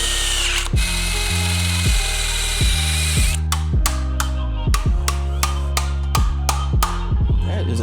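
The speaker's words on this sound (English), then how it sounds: "So let me go ahead and just run a drill bit over them real quick." A power drill runs a bit over the pinched edge of a 1969 Super Cobra Jet Mach 1 Mustang body, with repeated short whirring bursts stopping and starting in a steady, close, loud rhythm.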